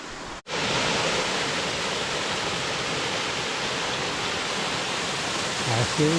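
Cascade Falls on the Falls Creek Trail roars as a broad, steady wash of falling water heard up close. It starts after a brief dropout, then stays loud and constant, with a faint voice near the end.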